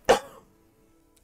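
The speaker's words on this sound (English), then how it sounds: "Sorry, I just had a cough." A single short, sharp cough, close and loud, followed by quiet.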